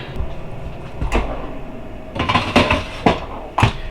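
A few sharp clunks and knocks of an air fryer door being handled and shut, with a faint hum in the background.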